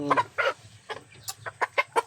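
A chicken clucks in a quick run of short, sharp calls, close by, with a faint low rumble underneath.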